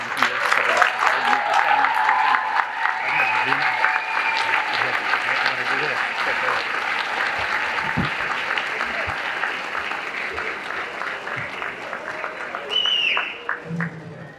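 Graduating students at a high school graduation ceremony stand and applaud their families and friends in the audience, a sustained, dense clapping from a large crowd that carries on steadily throughout, with a brief swell near the end.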